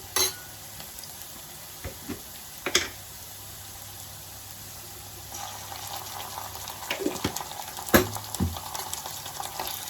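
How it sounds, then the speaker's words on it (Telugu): Ginger garlic paste fries in a pan with a steady soft sizzle, punctuated by scattered clicks and scrapes of a spoon and a brief watery splash, heard close up without any voices. "ఇప్పుడు మనము అల్లం వెల్లుల్లి పేస్ట్ వేసుకుందాం"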